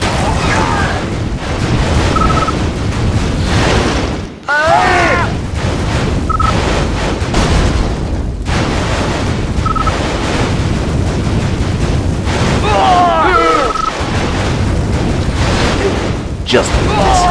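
Missile explosions in C&C Mental Omega, a steady stream of deep booming blasts rolling one after another over dense battle noise, with brief whistling streaks of incoming fire at intervals.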